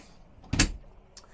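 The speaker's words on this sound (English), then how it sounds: "In the base of the dinette aft sofa, we have a nice pull-out drawer." A pull-out drawer in the base of the aft dinette sofa on a 2025 Saxdor 320 GTC boat slides open in one short, close thud-like scrape, followed by a faint tick.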